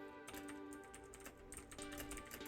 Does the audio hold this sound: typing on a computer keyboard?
yes